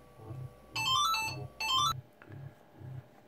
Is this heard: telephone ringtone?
yes